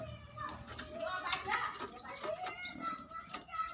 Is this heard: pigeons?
yes